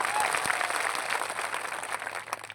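A political rally crowd in Nasvadi applauds police officers on duty, a sustained roar of many hands clapping at a distance, loud at first and easing slightly toward the end.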